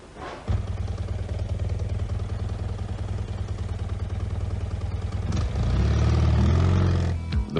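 A BMW car engine in 1980s Auckland gives a steady low idling rumble that thickens and grows louder toward the end before cutting off.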